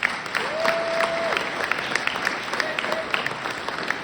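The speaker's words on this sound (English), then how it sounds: "so please give them a round of applause." Audience applause at a toast and sponsor-thanks event: steady, dense clapping from a sizeable crowd fills the whole stretch at an even level, with a faint tone sliding in briefly.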